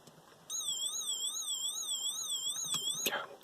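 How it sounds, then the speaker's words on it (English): Vintage Lego 9-volt fire engine toy sounding its siren, a close electronic warble rising and falling steadily after a sudden start, with a few plastic clicks near the end. "lights come on and siren goes"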